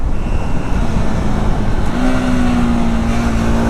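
A 2025 KTM Adventure 250 motorcycle engine pulls steadily under acceleration, its tone climbing, then settling into a new steady drone after a quick clutchless quickshifter gear change, loud and continuous with no talk.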